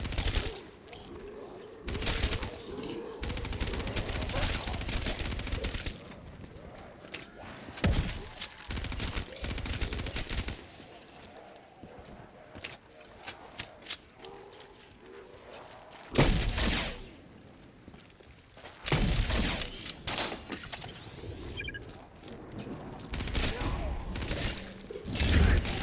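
Gunfire in Black Ops 3 Zombies on the Nacht Der Untoten map, with repeated bursts of bullet-gun shots scattered across the stretch, loud against a quieter background and interrupted by a few sharper blasts, while a voice talks in between.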